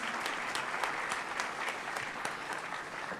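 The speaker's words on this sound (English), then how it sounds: "Can we have a big round of applause for that," An audience applauds at a university welcome event for a visiting delegation, a dense, steady wash of many hands clapping at once, even in loudness throughout and fairly distant.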